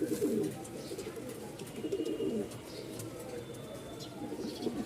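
Male white King pigeon cooing in repeated low, throaty bursts, close by, with faint bird chirps and background noise of a pigeon market.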